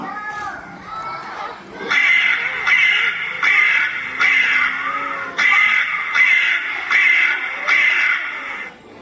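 A crow caws repeatedly in a rapid, steady series of harsh calls, near and loud, with children's voices faint underneath.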